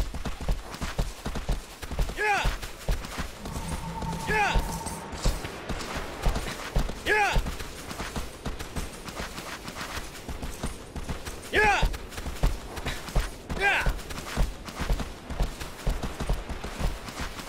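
Steady clip-clop of horse hooves in the video game Shadow of the Colossus, joined by several short whinny-like calls at intervals over a muffled background.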